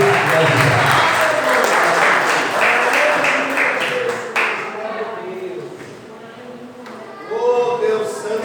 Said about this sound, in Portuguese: Dê uma salva de palmas aí